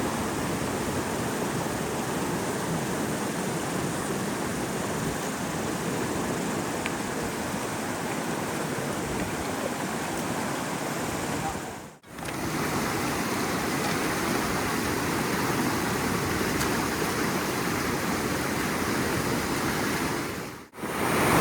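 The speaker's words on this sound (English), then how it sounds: "It's incredible to see the power of the water with the rocks." River water rushing hard over rocks beside a washed-out road near a mountain hut, a loud, steady, broadband roar that fills the whole clip with no talk.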